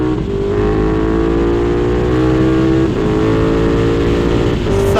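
A loud KTM Super Duke 1290 motorcycle engine roars continuously, revving with rising and falling pitch, close and powerful with no voices.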